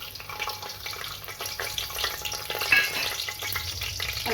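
Cinnamon, cloves and bay leaf sizzle and crackle steadily in hot oil, a close, continuous frying hiss with a stir or two.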